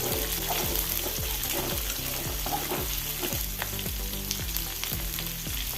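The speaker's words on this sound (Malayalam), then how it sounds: "ക്യാപ്സിക്കം രണ്ട് വലിയ ഉള്ളിയും സ്ക്വയറിൽ അരിഞ്ഞത് ഇട്ട് കൊടുത്ത് ഒന്ന് വാട്ടിയെടുക്കണം" Square-cut capsicum and two large onions sautéing in a pan for chicken chilli, a loud continuous sizzle with regular rhythmic tossing or stirring strokes about twice per second.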